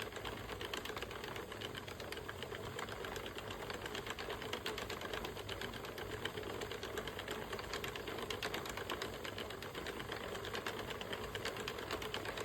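A Sentro knitting machine cranks out rows of white yarn for leg warmers, giving a steady, continuous mechanical clatter of rapid rhythmic clicks with no pauses, close and moderately quiet throughout.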